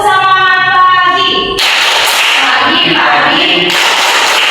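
A group claps the 'tepuk semangat pagi' routine, a burst of loud, dense clapping following a brief sung or voiced tone, rising again near the end.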